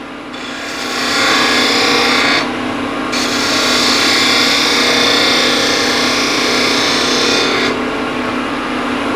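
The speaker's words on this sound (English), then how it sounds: "And this is 10 mil spindle gouge." A 10 mm spindle gouge cuts on a spinning wood lathe, giving a steady, loud scraping hiss that carries for about nine seconds with a short dip in intensity near the middle and again near the end, with a motor hum underneath.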